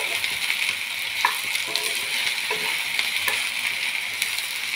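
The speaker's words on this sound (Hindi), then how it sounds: "ये मैंने भिंडी डाल दिया और इसको प्याज के साथ ही फ्राई कर लिया है।" Sliced okra frying with onions in a little oil in a pan gives a continuous close sizzle, with light scrapes and taps of a stirring utensil recurring through it.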